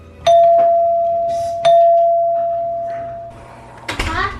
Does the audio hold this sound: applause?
no